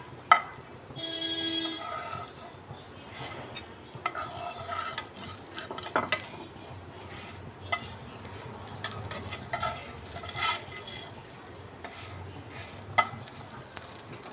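Semolina patishapta pitha frying in a pan, giving a soft, low sizzle broken by occasional spatula scrapes and light clinks, close but fairly quiet throughout.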